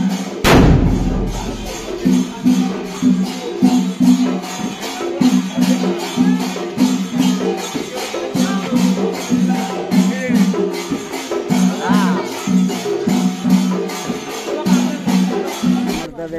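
A paper firecracker goes off with one sharp, loud bang at the annual Tarini temple fair, followed by steady rhythmic thumping festival drums and music.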